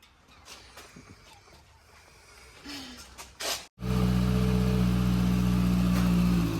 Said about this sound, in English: after a couple of seconds, just warming up the engine